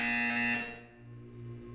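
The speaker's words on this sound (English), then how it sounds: "You will hear a buzzer." A loud electronic buzzer in Portal 2 blares for about half a second, then cuts off, leaving a lower droning hum behind.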